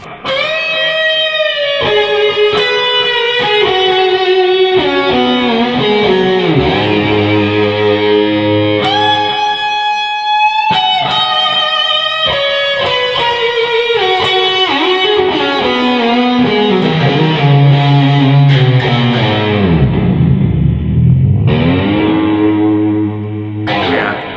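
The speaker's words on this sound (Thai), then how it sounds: "การใช้คันโยกมันจะเป็นเสียงแบบ คำรามออกมาเลยลักษณะนี้นะ" Heavily distorted electric guitar growls through combined string bends and whammy bar dives, its pitch swooping and diving deep, loud with reverb-drenched sustain.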